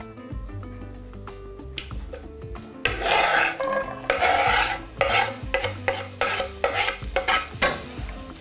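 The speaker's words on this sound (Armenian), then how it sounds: "Սոխը կտապակենք Սլոբոդա ապրանքանիշի արևածաղկի բուսայով" Onion fries in Sloboda sunflower oil and is stirred in the pan. Close scraping, rasping strokes come in bursts over a soft sizzle, with no voices.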